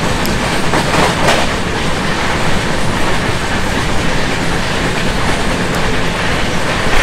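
Kandari Express on the Howrah to Digha run, heard from aboard at high speed as a loud, dense roar of wheels on rail with rapid clickety-clack and rattling carriages, steady throughout with no talk.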